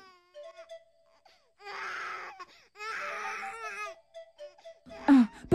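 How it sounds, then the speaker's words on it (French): A baby cries at night in two long, loud wailing bursts separated by quieter whimpers, with short sobbing sounds at the start and end. "Comment un enfant peut-il pleurer à cette heure de la nuit?"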